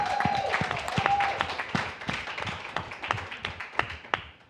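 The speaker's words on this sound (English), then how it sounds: "Start clapping for my man, Ron G.," Audience clapping for a comedian at a comedy panel, a loose scatter of nearby hand claps with some individual sharp slaps standing out, tapering irregularly, with a brief tone and faint voices at the start.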